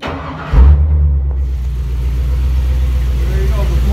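A GM LS V8 engine cranks and catches, then settles into a loud, deep rumbling idle close by.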